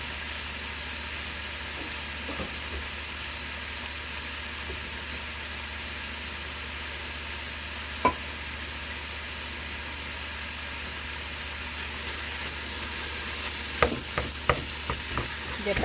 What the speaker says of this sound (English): So we're going to put this onion in here and let it start cooking.